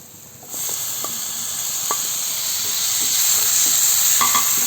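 Masala with chopped tomato sizzles steadily in a pan while a spoon scrapes and stirs, giving a few sharp clicks against the metal over a constant frying hiss.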